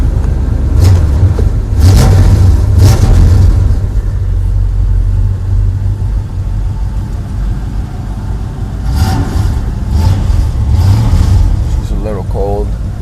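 A 1972 Chevelle's engine rumbles steadily up close, with brief rises in revs, and a person talks over the low running drone.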